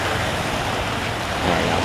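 Steady roar of Lake Michigan waves washing against the Algoma Pierhead Lighthouse pier in Wisconsin, a continuous broadband surge mixed with wind buffeting the microphone and no voices.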